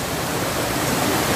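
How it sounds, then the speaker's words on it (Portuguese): A waterfall during an outing in Penedo, Rio de Janeiro: a steady, dense broadband roar of falling water, constant and close with no pauses, heard alone without anyone talking. "Ali, galera, a cachoeira"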